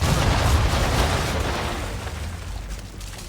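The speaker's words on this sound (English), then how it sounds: "Bring around broadside, and when all guns are on target, call fire." A ship's cannon broadside in Assassin's Creed III: a heavy, sustained rumbling boom of massed guns that fills the clip and slowly decays, with no voices over it.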